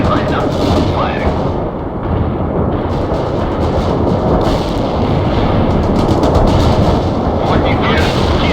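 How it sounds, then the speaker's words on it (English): Artillery firing in the real-time strategy game World in Conflict: a dense, continuous roar of booming shots and rumbling blasts, loud and sustained throughout. "Artillery lined up. Firing."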